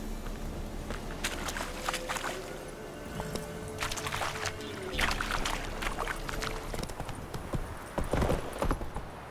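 Horse hooves in The Witcher 3, a rhythmic clip-clop of a horse moving steadily along, mid-distance, with splashy ambient texture and scattered louder knocks.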